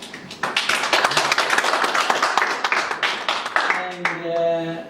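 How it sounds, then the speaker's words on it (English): An audience at a TI computer meeting in Rome gives a few seconds of dense, steady clapping. It starts abruptly and thins out at the end as a voice resumes. "I think he deserves a round of applause."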